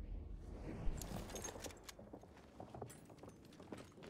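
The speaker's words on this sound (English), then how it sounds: "I hear a horse." Horse hooves clip-clop in a video game, a steady run of soft, fairly faint hoof beats mixed into ongoing game ambience.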